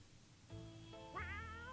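A cat meows once in the survival video game 60 Seconds! Reatomized, a short rising-and-falling call set over a low background hum, fairly quiet and with no talking.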